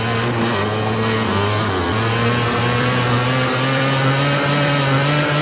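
Upin's motocross motorbike from a cartoon runs with a loud, continuous buzzing engine note that holds steady and close, with slight shifts in pitch.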